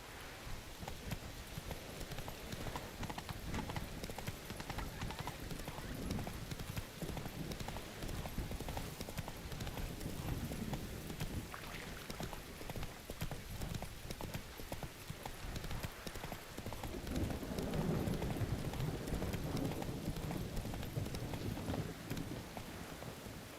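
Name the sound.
horse Roach galloping in video game Witcher 3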